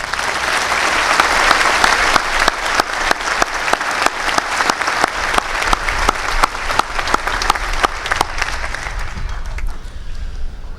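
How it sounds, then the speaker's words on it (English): A large conference audience applauds with dense, sustained clapping that thins into scattered individual claps before fading near the end. "recognize our international students with a quick round of applause"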